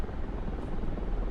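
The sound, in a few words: Mi-24 Hind helicopter flying in a video game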